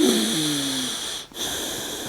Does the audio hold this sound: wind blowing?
no